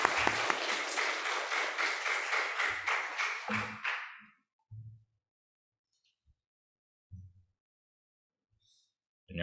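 Korean church congregation at Sunday worship applauding in welcome: a burst of clapping that swells in rhythmic pulses for about four seconds, then cuts off, leaving a few soft knocks and a quiet voice in near silence.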